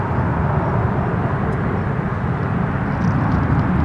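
Jet engines roar overhead at Denver International Airport, a loud, steady, broadband rumble that holds without a break for the whole stretch.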